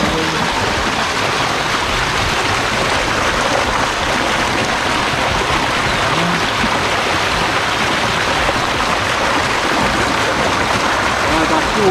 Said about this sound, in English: I just see a wetland with water, like just a spring of water.